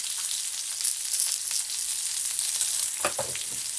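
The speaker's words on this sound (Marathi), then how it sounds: "हे टाकून सगळं छान असं भाजून घेणार आहे मी मस्त आपल्याला भाजून घ्यायचं आहे याला" Green chilies, salt and cumin roasting in a hot pan for a spicy village-style chili thecha, a close, continuous frying sizzle with a brief stirring scrape near the end.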